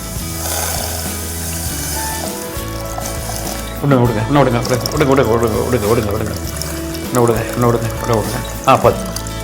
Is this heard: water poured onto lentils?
yes